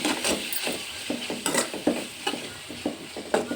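Egg fried rice ingredients sizzle and fry in a pan while a utensil stirs them, producing a steady hiss broken by repeated scraping, clinking strokes close by, with no talking.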